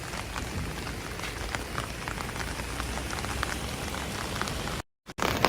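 Heavy rain pouring steadily onto surfaces in Tokyo during Japan's rainy season, a dense continuous hiss with spattering drops close by, cut by a brief silent gap near the end.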